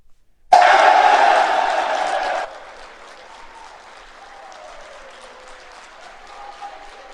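A football crowd at a bowl announcement breaks into loud, dense applause for about two seconds, then it drops away abruptly to a faint, quiet background.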